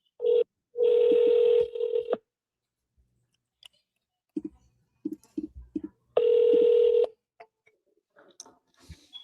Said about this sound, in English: You guys can hear my phone ringing